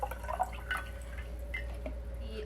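Last drops of stop bath drip from a 35mm film developing tank, a few sparse, faint plinks over a quiet room hum.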